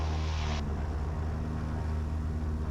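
A twin-engine light aircraft's piston engine drones steadily during a pre-flight run-up check, a loud, even rumble with a brief higher hiss at the start.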